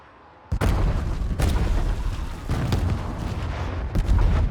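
Several heavy booming blasts in the video game House of Ashes, loud and close, arriving in quick succession with sustained rumbling noise between them.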